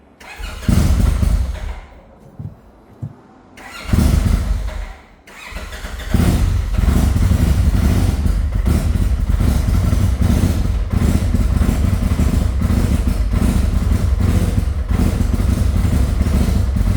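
An Nflow crate engine with a head gasket coolant leak cranks in short bursts, falls silent, then catches and settles into a loud, uneven idle with a rough, stumbling misfire rhythm.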